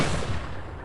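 A single gunshot from the movie Ash & Bone, a short low boom that fades into a dull rumbling tail.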